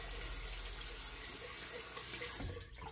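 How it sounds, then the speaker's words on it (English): Tap water runs steadily and loudly over hands being rinsed in a sink, a close, unbroken splashing rush that cuts off abruptly near the end. "Let me rinse my hands off."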